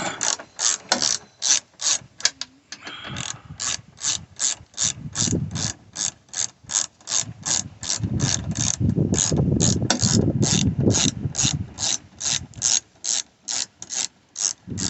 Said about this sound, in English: So I'm gonna remove the bolt, the one that is in here.